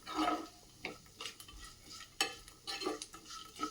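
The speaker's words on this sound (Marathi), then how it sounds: "यामध्ये घालायचं आहे आपण साधारण पाव कप सुक्या खोबऱ्याचा खीस हे सुद्धा व्यवस्थित असं भाजून घ्यायचं" Grated dry coconut roasting in a pan for chutney, faint dry rustling and scraping as it is stirred, with light clicks of the spoon against the metal, quiet and close.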